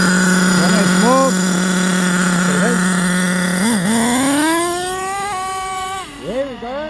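The small nitro engine of an HPI Savage X 4.6 RC truck runs close by while being tuned, its buzzing note swinging up and down in quick revs before climbing into a higher, sustained whine.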